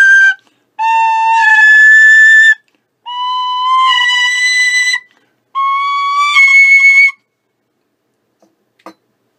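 A tweaked Freeman Generation tin whistle plays three held phrases of pure, bright notes stepping between pitches, with pauses between them, then a faint click at the end.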